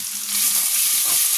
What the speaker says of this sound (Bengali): কড়াই তেল আছে, এখানে দিয়ে দেবো গোটা গরম মশলা। একটু ভাজা হয়ে যাক।